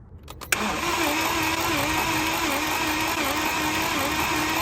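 BMW F10 engine with 2013 original plugs and a bad motor cranking on the starter, a steady mechanical churning drone after a few brief clicks, close and loud without catching.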